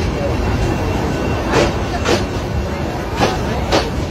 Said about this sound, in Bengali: একটি ট্রেন যাচ্ছে